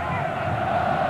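Corinthians football fans roaring and chanting in the stadium during a 2005 Brasileirão match against Internacional, a dense sustained crowd roar, loud and even, under a commentator's voice.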